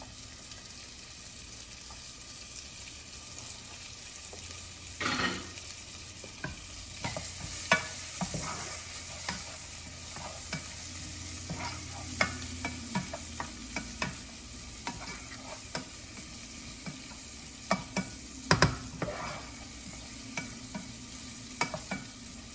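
Onions frying in a pan for a shrimp omelette, a quiet continuous sizzle with scattered pops and occasional scraping or stirring clicks throughout.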